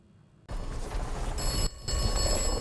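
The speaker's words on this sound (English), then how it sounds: "we got another phone call" A telephone rings in the video game Atomfall, bursting in loudly after a brief near-silence, with a sharp electronic bell tone that continues, briefly dips, then resumes.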